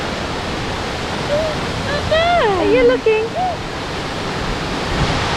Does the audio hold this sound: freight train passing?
no